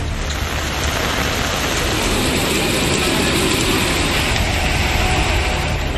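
Heavy monsoon rain pours down steadily around Chennai-area towns like Arcot and Kuppam in Tamil Nadu, a dense, unbroken roar of falling water with a low rumble beneath, loud and constant throughout.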